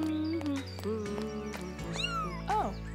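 Several cats meow in quick succession, close and fairly loud, over a low steady background hum.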